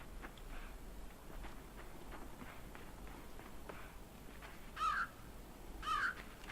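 A raven caws twice in the video game Limbo, short harsh calls near the end over a faint background of soft steps and low rumble.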